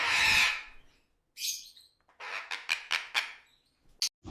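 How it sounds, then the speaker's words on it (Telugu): Chirping bird sounds for a children's story about a clever parrot: a loud opening squawk, then a burst of quick, bright chirps in an uneven rhythm, close and clear with no talking. "తెలివైన చిలుక"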